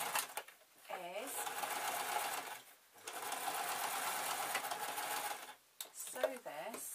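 A sewing machine stitches a zip onto a make-up bag in two sustained runs of rapid mechanical whirring, close and clear, with brief pauses between bursts and a voice speaking in the gaps.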